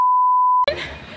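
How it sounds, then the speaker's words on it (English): A censor bleep, a single steady electronic tone, covers spoken words for about half a second before casual talk resumes without a break. "So you should probably bleep that out."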